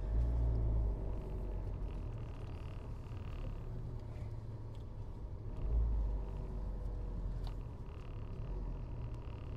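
A car engine idles nearby as a steady low rumble with slight swells, running alone without talk.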